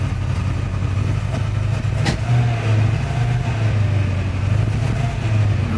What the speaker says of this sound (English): That's me trying to rev up a little bit. So lots of backfiring, so it's clearly running a bit dubiously.